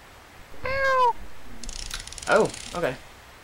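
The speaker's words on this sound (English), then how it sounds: "Aw, I can meow." A cat meows in the video game A Purr Tale: one clear drawn-out meow, then a mechanical ratcheting whir, followed by two shorter meows close by.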